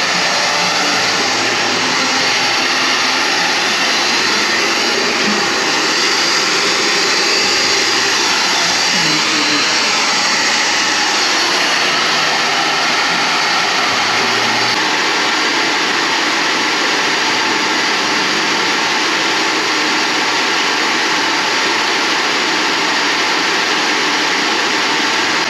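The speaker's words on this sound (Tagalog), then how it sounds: "Sinisip-sip yung vacuum" Loud, constant roar of a vacuum sucking up water, steady and close with no pauses.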